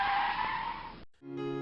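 A car pulls away with a loud, sustained tire skid for about a second, then breaks off abruptly into a lower tonal hum as it moves on.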